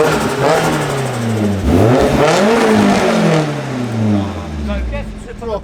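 BMW E30 engine revving hard with a raspy exhaust, rising and falling in several close, loud blips and sweeps, with voices talking over it.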